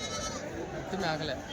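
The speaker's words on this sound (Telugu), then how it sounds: "ఒట్టి మేకలే, అన్ని పెద్ద మేకలే." Large goats bleat at the Tuesday livestock market in Kadiri, their calls mixed under nearby people talking over a busy crowd murmur.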